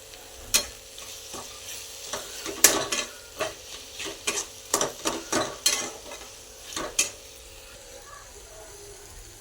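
Tomato frying for a spicy brinjal bharit sizzles softly while a spoon scrapes and taps against the pan in irregular bursts, close up, with no talk.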